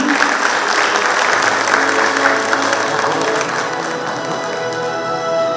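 An indoor audience at a cosmetics business event breaks into dense, loud applause to welcome a speaker, holding steady for several seconds before tapering slightly at the end.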